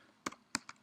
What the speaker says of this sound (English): So in order to do that, I would type ARP/A.